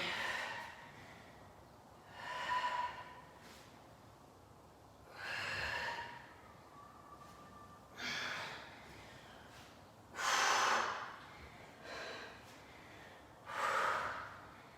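Heavy, forceful breathing during a Tabata workout: repeated loud exhalations and gasping breaths arriving every two seconds or so, close and unaccompanied by talk.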